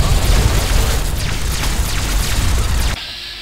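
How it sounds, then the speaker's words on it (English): Explosions in the Fallout 3 video game, a dense, loud barrage of booms and crashes rumbling continuously for about three seconds before cutting to a quieter tail. "Explosions everywhere."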